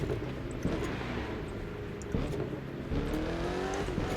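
Racing car engine from the video game The Crew 2, a 600-horsepower car overtaking traffic: a steady loud engine drone with rising rev shifts and gear changes, continuous throughout with no talk.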